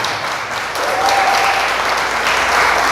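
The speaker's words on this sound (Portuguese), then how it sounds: "Aplauda mesmo forte." A church congregation applauds loudly and steadily for a few seconds, a dense continuous clatter of many hands filling the room.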